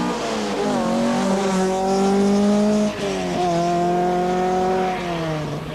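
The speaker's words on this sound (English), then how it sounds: "From England with his Opel Ascona 400 is Vince Wetton and Chris Allen" An Opel Ascona 400 rally car races along a stage at the 1985 Hellendoorn Rally in Holland, its engine howling through rising revs and clear gear changes, loud and close.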